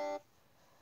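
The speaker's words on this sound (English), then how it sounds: "I'm sorry, that's my alarm clock." An alarm clock gives a single short electronic beep, clear and fairly close, cutting off abruptly into quiet room tone.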